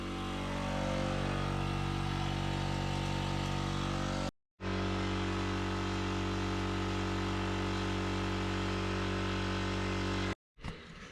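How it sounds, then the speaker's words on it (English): A compressor runs steadily and loudly with a constant tonal hum in a garage during work on a Subaru compound turbo setup, cutting out briefly twice with no talk over it. "Got the compressor going."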